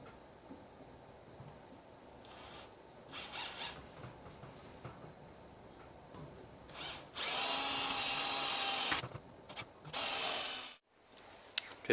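A power drill bores 5.5 mm rivet holes in an RA28 window louver, starting with short quiet bursts and then two sustained loud runs of whining drilling close up, separated by brief pauses.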